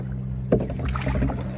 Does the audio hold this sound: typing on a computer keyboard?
no